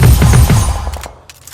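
A quick rattling burst of PUBG Mobile gunfire, a rapid string of close, loud shots that trails off within a second and a half.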